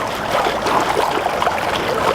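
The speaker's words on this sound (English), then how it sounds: "you put your pan under the water, get everything wet, and just wash it" A gold pan is swished underwater in a stream, giving a continuous watery gurgle and rush, close and steady, with no voices.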